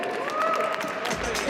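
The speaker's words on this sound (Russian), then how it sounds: "Аптека Плюс, аплодисменты." Applause at an award ceremony greets team Apteka Plus: a short, dense burst of clapping from a crowd, with a steady tonal sound running underneath.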